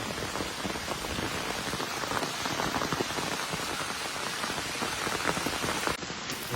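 Steady, dense rain falls on the Appalachian Trail, a continuous close hiss of drops striking leaves and ground for the whole stretch, with no voices.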